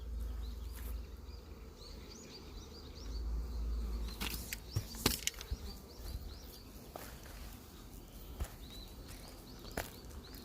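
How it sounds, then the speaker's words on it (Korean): Hornets buzzing outdoors near beehives on a chilly autumn day: a faint, steady insect drone with wingbeat whines drifting in and out, broken by several sharp clicks and knocks, with no voices. "두 마리의 말벌을 잡았습니다."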